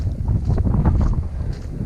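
Steady gusting wind buffeting the microphone at an exposed wild camp spot on a forest peninsula by Kielder Water, a dense low rumble that stays loud and continuous throughout.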